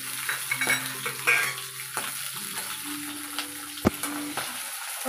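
Chana dal, green chillies, coriander seeds and cumin frying in a pan for pulihora, stirred with a spoon: scraping strokes over a steady sizzle, with a sharp clink of metal near the end.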